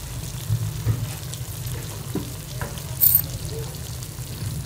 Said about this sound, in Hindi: तो इसको हम मीडियम आंच पे जो है उठा के टमाटर को सॉफ्ट होने तक पकाएंगे